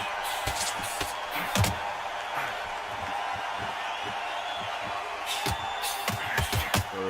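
Arena crowd in the boxing video game Undisputed, a steady broad murmur of spectators with occasional sharper swells and thuds, moderately loud and continuous throughout.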